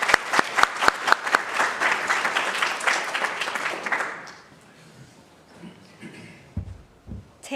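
Warm audience applause fills a lecture hall in welcome of a guest speaker at a public statistics lecture, dense and sustained clapping for about four seconds before fading to quiet room noise and faint movement.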